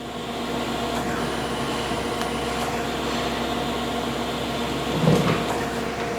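A Chevalier 20 x 40 inch column-type three-axis automatic surface grinder runs a spark-out pass, a steady machine drone and hiss with a brief louder swell near the end, heard alone without talk.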